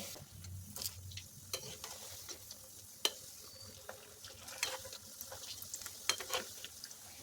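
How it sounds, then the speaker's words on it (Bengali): Veg manchurian balls deep-fry in oil over medium flame, a faint, soft bubbling sizzle broken by sharp scattered pops and clicks of turning, with no one talking. "বেশ মুচমুচে করে ভেজে নিতে হবে"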